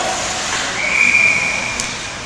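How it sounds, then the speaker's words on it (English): A referee's whistle blows one sustained shrill note at a Sabres versus Blue Jackets ice hockey game, standing out over the dense roar of the arena crowd. "That's the whistle"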